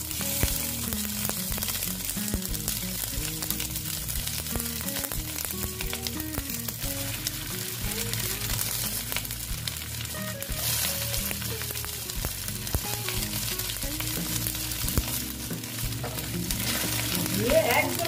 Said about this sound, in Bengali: কম তেলে একটু আমি এগুলোকে ভেজে নেব।